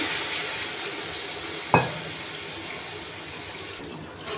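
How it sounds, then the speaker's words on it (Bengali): Water poured into a curry simmering in a cooking pan: a low, steady background sizzle is broken by one sharp splash as the water goes in, then the bubbling carries on quietly. "এবার পরিমাণ মতো জল দেবো, খুব ঝোল রাখবো না।"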